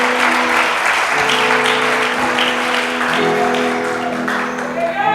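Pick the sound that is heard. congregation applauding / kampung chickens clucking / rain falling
congregation applauding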